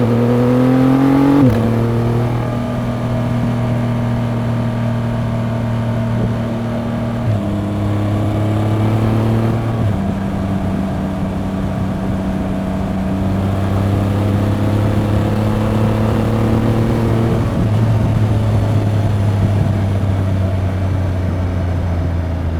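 A motorcycle engine drones and revs while riding, pitch stepping up through gears and easing off, close and steady with wind rush throughout.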